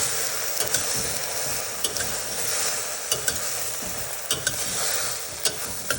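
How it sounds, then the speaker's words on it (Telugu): Okra and brinjal frying in a pan while being stirred: a close, even sizzle punctuated by regular spoon scrapes and taps against the pan every second or so, no speech. "బాగా వేయించుకుందాం"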